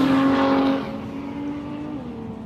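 A Mustang drag car making a six-second pass at Warwick Dragway: a loud engine roar that fades quickly as the car runs away down the strip, leaving a lower, distant rumble.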